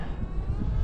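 A giant-wing RC model airplane with a 1200mm wingspan on a 4S battery passes by into the wind, its steady motor drone broad and rumbling under heavy wind buffeting on the microphone throughout.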